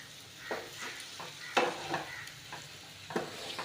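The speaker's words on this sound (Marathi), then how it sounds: "आता ही बटाटे व्यवस्थित अशी मिक्स करून घेऊया" Mashed potatoes mixed in a pan as filling for bread patties, heard as a few soft, spaced scraping strokes of a spoon, quiet and close with no talk.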